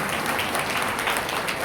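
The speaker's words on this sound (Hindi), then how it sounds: "जोरदार तालियों से विदा कीजिए।" An audience at a kavi sammelan poetry gathering in Karnal, Haryana claps together in a dense, continuous burst of applause at moderate loudness, with no clear voices above it.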